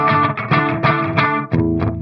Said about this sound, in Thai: เสียงจะคล้ายๆกับรีเวิร์บตระกูลลูมนะเป็นแบบสไตล์แบบลูมนะ